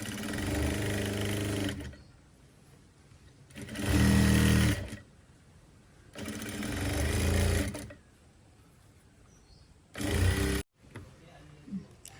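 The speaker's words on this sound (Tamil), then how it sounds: "இந்த துணியை வந்து நாங்கள் மடித்து தைக்க போகிறோம்" Electric sewing machine stitching folded fabric for a modern top, running in four separate bursts of loud, steady motor whir and needle rattle, with quiet pauses between runs.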